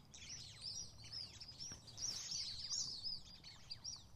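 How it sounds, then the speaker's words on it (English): Birds chirp outdoors during a landscape photography session, many quick high tweets overlapping continuously at a moderate distance over faint background noise, with no talking. "There's those birds. Hear them?"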